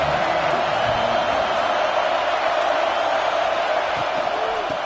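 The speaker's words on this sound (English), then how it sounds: "This crowd ready to make its presence known." Steady, dense crowd roar fills a college football stadium in CFB Online Dynasty, Cal vs Ohio State, a constant wall of cheering noise with faint talk underneath throughout.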